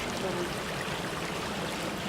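A river near Baguio flows steadily, a dense, even wash of rushing water close by with no breaks, filling the whole moment.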